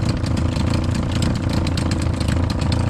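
A Carolina Skiff boat's outboard engine idles steadily while still warming up, a loud, continuous close-up chugging with a fast even pulse and no talk.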